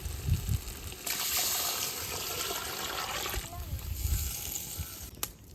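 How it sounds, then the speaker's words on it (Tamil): Water poured into a pot of sautéed chicken while cooking chicken biryani, a sustained gushing, splashing pour lasting a couple of seconds amid softer kitchen sounds before and after. "இப்போ தண்ணி சேர்த்துக்கலாம்."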